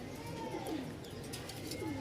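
Pigeons kept by a pigeon seller coo in soft, rolling, repeated calls, close and steady over a low, continuous background hum.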